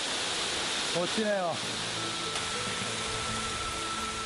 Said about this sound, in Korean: 시원하게 떨어지는 폭포 소리에 제 모든 걱정과 시름이 씻기는 듯합니다.